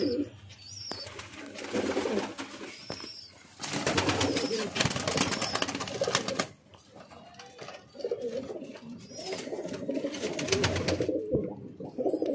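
Pigeons coo in repeated low, throaty bursts close by, several birds overlapping in waves with brief quieter gaps between, among a lot of pigeons for sale.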